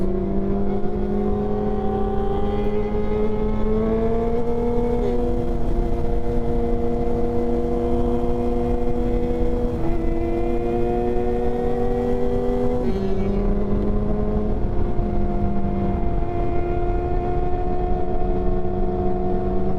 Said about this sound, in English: Man, listen at the bikes. Listen at them.